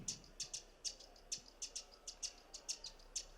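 Wren song produced by an AI audio plugin transforming a drum track: a dozen or so bright, quick chirps in a steady, drum-like rhythm, close and clear over a quiet background.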